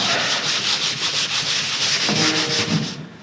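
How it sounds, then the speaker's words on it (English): Rhythmic back-and-forth sanding on a wooden front door, a steady abrasive rasp repeating in quick strokes, close and loud, stopping at the end. "we're sanding it now"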